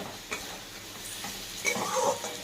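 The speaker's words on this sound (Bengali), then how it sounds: "এটা একটু কষিয়ে নেবো, কারণ টমেটোগুলো একটু মজে গেলে দেন আমরা ভালো করে কষিয়ে তারপর জল দেবো।" Tomatoes cooking down with ginger-cumin paste in a pan for dhoka daalna, a low steady sizzle with a few soft stirring scrapes, fairly quiet throughout.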